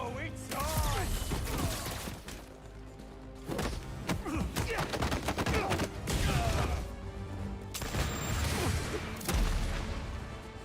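Gunfire and impacts in Marvel's Spider-Man 2 crackle through a busy, loud action scene, with repeated sharp bangs, thuds and crashes in clusters and voices shouting over the chaos.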